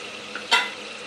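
Tomatoes cook in a pan for chicken curry, giving a faint steady sizzle broken by one quick stirring scrape at the midpoint.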